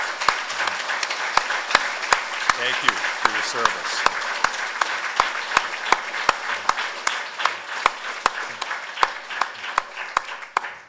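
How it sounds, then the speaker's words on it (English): Steady crowd applause honors Marines at a memorial ceremony on the Marine Corps' 250th anniversary, continuous clapping with a rhythmic beat running through it while a voice speaks briefly over it. "Let's give these Marines a round of applause."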